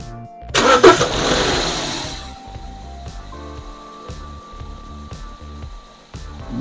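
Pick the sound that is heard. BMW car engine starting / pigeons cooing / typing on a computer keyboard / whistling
BMW car engine starting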